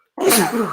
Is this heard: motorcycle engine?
no